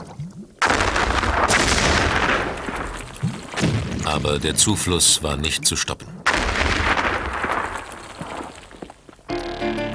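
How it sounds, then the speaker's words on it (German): Several heavy, booming dynamite blasts go off in succession on Oak Island, loud and rumbling, churning water in a pit, while someone narrates over them in German. "Zahlreiche Explosionen wühlten jetzt die Insel auf und ließen das Wasser in der Grube aufschäumen und sprudeln."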